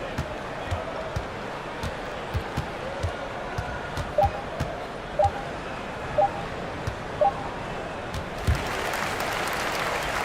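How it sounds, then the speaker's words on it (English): Crowd noise from a home arena in an NBA 2K24 simulated basketball game as the team wins, a broad steady roar with a few rhythmic thumps and claps, swelling louder toward the end. "So the home crowd happy here as they get the victory."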